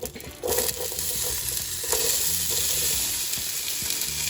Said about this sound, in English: coconut oil is melted down. Let's get in there with our onions and garlic.